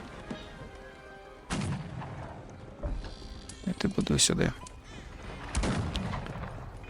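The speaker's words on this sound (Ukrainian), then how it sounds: "Щось вони там стріляють собі" Gunfire and artillery ring out in the strategy video game Cossacks 3, scattered booms and sharp bursts of shots arriving in clusters over a quiet game background, with a voice speaking briefly.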